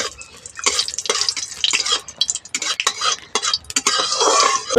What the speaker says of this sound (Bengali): শুকনো লঙ্কাগুলো ভেজে নেব